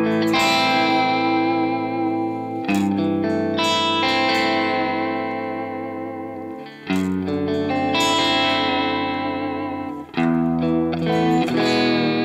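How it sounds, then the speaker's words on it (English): Clean electric guitar chords ring out one after another, each sustained with a gentle wavering pitch from a Babicz tremolo bar, close and alone. "So we're on a clean setting, do some chords, put a bit of vib in"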